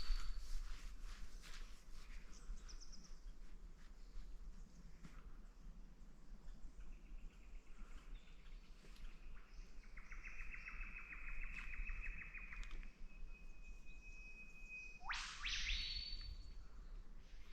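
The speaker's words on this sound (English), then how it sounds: "We had those two whip birds talking to each other somewhere off in the distance." Two whipbirds call to each other somewhere distant in a quiet forest at Punchbowl Falls, New South Wales, a thin sustained tone followed by a sharp rising whip-crack note, faint over steady insect hum and rustling.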